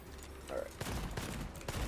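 Gunfire in the shooter game Gunfire Reborn comes as a dense, close burst of rapid shots, with several sharp cracks packed into under two seconds.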